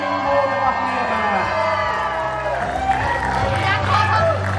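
Guests at a wedding reception cheer and whoop together, a lively burst of raised crowd voices and shouts, with talking mixed through it.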